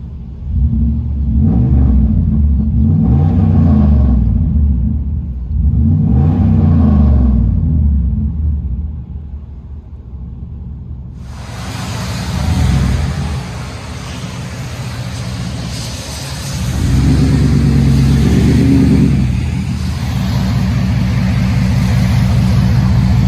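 Deep, loud engine rumble from inside a Dodge/RAM truck cab with a 4.7L V8 Magnum and single exhaust, swelling and easing in waves as the throttle rises and falls, with a broad roar building midway.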